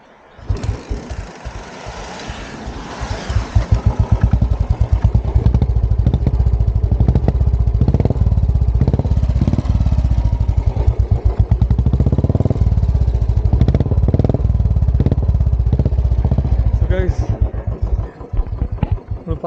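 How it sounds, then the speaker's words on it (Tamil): A motorcycle engine in the hill station of Ooty fires up and settles into a strong, steady thumping beat. Close and loud, the rhythmic pulses continue for most of the clip and ease off near the end. "அந்த பீட்டு சவுண்டு வேறு லெவலுங்க"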